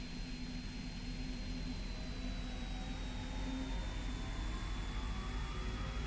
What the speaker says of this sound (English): Engine started successfully.